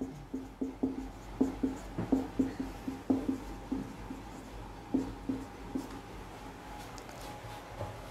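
Short, rhythmic strokes and taps of writing on a board during a geometry lesson, fairly quiet and close, in bursts of quick marks with brief pauses and no talking.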